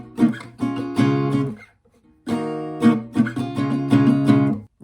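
Acoustic guitar strummed with chords in the pattern of a song, two bright ringing phrases of rhythmic strokes separated by a brief pause, close and loud with no voice.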